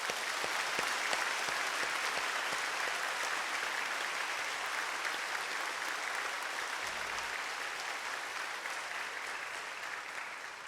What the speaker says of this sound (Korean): 오늘 고맙고 감사한 마음으로 우리 한번 박수하시죠.